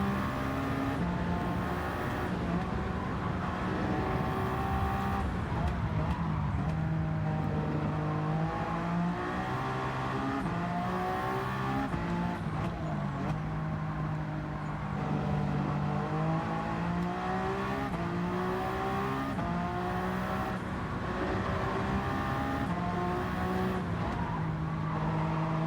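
Race car engines drone steadily in a Gran Turismo 7 endurance race at the Nürburgring 24 Hours, with several cars audible and engine pitch rising and falling continuously throughout.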